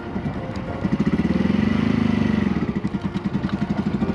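A Honda MSX motorcycle revs higher as the clutch is slowly let out and it pulls away, a close pulsing single-cylinder engine note rising and then easing off.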